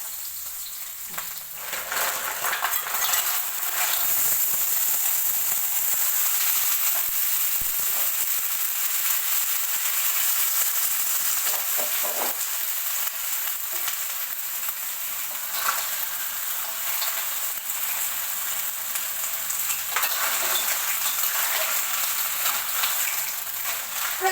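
Stir-frying in a pan over medium heat gives a steady, close, loud sizzle with a few scraping stirs, running alone throughout.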